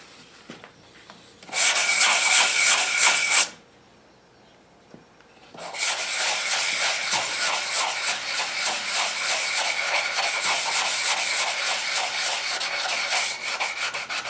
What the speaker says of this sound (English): it's sanding here on this edge